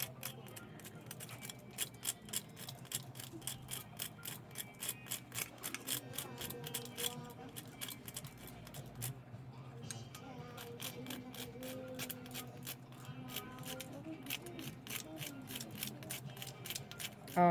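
Fresh ginger, cinnamon and nutmeg are grated by hand in a steady run of quick, crisp rasping strokes, close up and fairly quiet, with a short pause midway.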